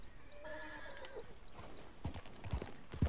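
A horse in the video game Red Dead Redemption 2 whinnies briefly, then hooves clop in a few heavy, uneven steps, close and fairly quiet.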